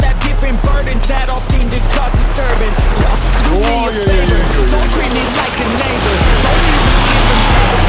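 An Infiniti FX50 SUV drifts with roaring engine and screeching tires, loud and close, engine pitch swooping up and down through the slide while people talk over it.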